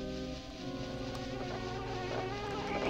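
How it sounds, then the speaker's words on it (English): Bees buzz in the video game Banjo-Kazooie, in the Mad Monster Mansion level, as a continuous droning hum that wavers slightly in pitch. It holds steady and fairly loud, with no talking over it. "Great, now I have to do battle with the bees."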